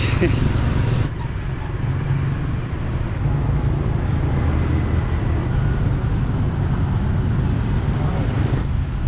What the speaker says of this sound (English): Lots of mopeds, as you can see here. Very loud, noisy, and chaotic.